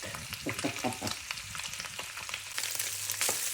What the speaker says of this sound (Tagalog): Magisa na tayo.